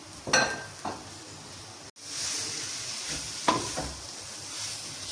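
Dum keema is stirred in a pot, with soft scraping strokes over a faint sizzle and hiss, a few sharper clinks of the spoon against the metal, all fairly quiet and close.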